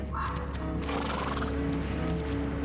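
A horse neighs and whinnies with hoof clip-clop in A Plague Tale: Innocence, a steady medieval game soundscape of animal calls over continuous background ambience, no speech.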